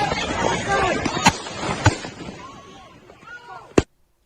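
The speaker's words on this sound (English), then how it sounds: "let's listen for the gunshots." Three sharp, isolated gunshots crack out at intervals, standing out from a busy, noisy background of crowd and street sound.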